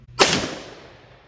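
A single sharp, loud gunshot from a 10mm pistol or revolver fired outdoors beside a chronograph, a sudden crack with a long decaying tail and no voices.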